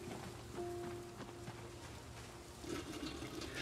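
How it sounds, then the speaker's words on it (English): Water fills cooking pots from a water dispenser in the Project Zomboid video game, heard as a faint, steady trickle and splash over a thin tonal hum, with no voices. "I'm going to top up my cooking pots here on the water dispenser"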